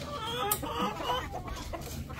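Free-range chickens clucking steadily in a farmyard at feeding time, several birds close by with overlapping calls, no talking.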